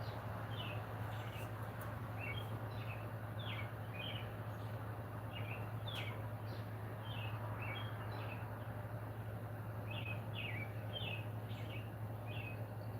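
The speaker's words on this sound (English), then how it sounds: "They always chirping out here, Chris." Small birds chirp outside at night in short, repeated high peeps scattered through the whole stretch, faint to moderate over a constant low hum and steady background hiss.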